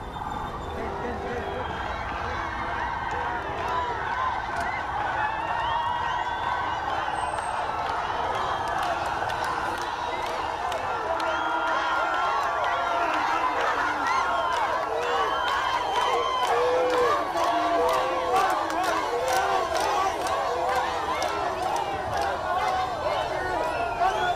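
Dense crowd noise with scattered cheers and shouts from a street gathering as General Muhoozi passes along Ginger Road at Kitugumu House Junction, steady and loud throughout, with overlapping voices in the mix.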